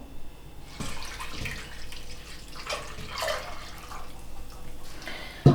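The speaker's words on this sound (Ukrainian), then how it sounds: "Ось сік я перецідила. Зараз вливаю знову в каструлю." Strained raspberry juice pours from a vessel back into a cooking pot, a steady soft liquid splash running for several seconds with brief pauses, close and fairly quiet.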